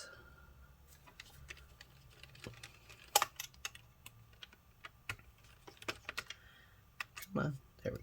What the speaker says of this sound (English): we're going to remove all 4 of these screws